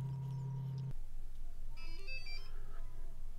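A Sense home energy monitor, just powered on at a breaker sub panel, plays a short electronic startup chime of a few high tones, faint over a steady low hum that cuts off early.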